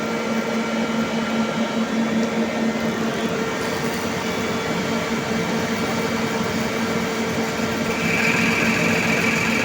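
A metal lathe turns a part using a special attachment, giving a steady, loud mechanical hum and whine that runs unbroken throughout, rising slightly toward the end.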